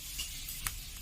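Cashews frying in hot ghee make a soft, continuous close-up sizzle with a faint crackle and one small pop partway through.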